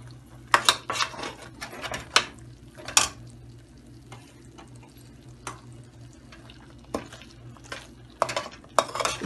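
Pasanday meat stirred and scraped in a pot over low heat: intermittent scraping strokes and clinks against the pot over a soft, steady background hum, with quieter gaps between bursts.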